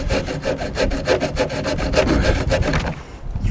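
A hand saw rips through half-seasoned hardwood in a saw shootout, fast loud rhythmic strokes, about four per second, close up, ending with a brief drop as the cut slows.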